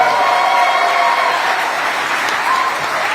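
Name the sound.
audience applause at hotel opening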